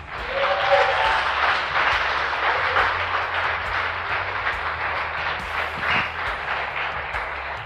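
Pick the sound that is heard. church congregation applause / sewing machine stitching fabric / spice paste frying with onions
church congregation applause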